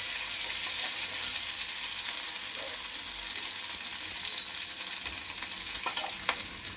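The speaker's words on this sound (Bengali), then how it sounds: "এইভাবে ভালো করে ভেজে নিতে হবে যাতে আদার গন্ধটা চলে যায়" Grated ginger sizzles steadily in hot oil in a pan while cooking a pabda fish curry, a continuous close-up crackle with occasional louder pops near the end.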